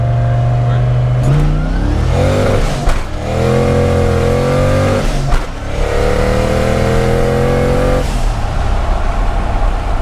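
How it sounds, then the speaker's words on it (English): Turbocharged 1993 Ford Mustang pulling hard through first and second gear, loud and close from inside, engine pitch climbing, dropping at the shift, then climbing again with brief breaks between pulls. "let's test out a first and second gear pull here. So we're in first"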